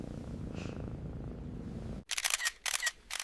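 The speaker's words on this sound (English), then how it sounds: "If you hear me purr, pretend you didn't." A low, rumbling cat-like purr held steadily close up for about two seconds, then cut off by sharp, bright clicking and rustling bursts.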